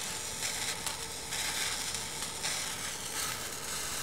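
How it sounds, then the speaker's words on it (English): A sauce bubbling and sizzling in a pan as it reduces, a steady close crackling hiss that surges slightly in waves, with no talk. "by letting it boil for a bit, you can also reduce it to make it thicker and slightly more syrupy"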